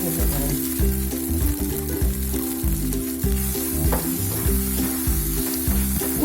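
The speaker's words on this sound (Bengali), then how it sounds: "আস্তে আস্তে আমি নেড়ে নিচ্ছি। এবার একটু আলু ভাজা দিয়ে দিচ্ছি।" Red amaranth greens fry with fried potatoes in a pan while being stirred, a steady loud sizzle with gentle scraping, heard under rhythmic background music.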